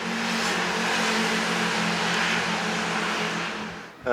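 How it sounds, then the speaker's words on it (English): A 2012 Ducati 1199 Panigale motorcycle passes by, its engine roar building loud and steady for several seconds before fading away quickly at the end. "And I'll just let that bike pass me."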